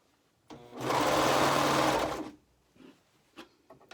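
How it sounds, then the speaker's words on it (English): A serger stitches elastic onto the neckline of a romper in one steady, loud motorized burst of about two seconds, followed by a few soft handling clicks and rustles. "so then we're just gonna do the serging"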